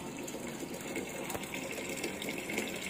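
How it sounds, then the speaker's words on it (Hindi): Water runs steadily while buckets are filled at home during wheat washing, a continuous close rushing and splashing stream with no talking. "तो अभी बस मैं पानी भर रही हूँ बाल्टियों में,"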